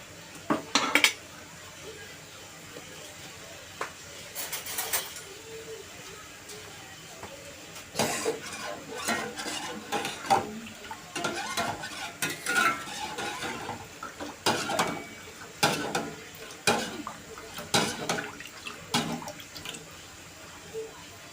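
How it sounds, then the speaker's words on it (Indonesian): Coconut milk being stirred in a pot for bubur, with repeated clinks and scrapes of a utensil against the metal, irregular bursts over quiet background. "Kemudian kita aduk-aduk, jangan sampai santannya pecah."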